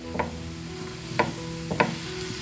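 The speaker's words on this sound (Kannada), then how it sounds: "ನಾವು ಇದನ್ನು ಫ್ರೈ ಮಾಡ್ಕೊಂಡು ಬರೋಣ" Peanuts and spinach frying with salt in a pan: a soft, low sizzle with three distinct stirring scrapes spaced about a second apart, with no voices.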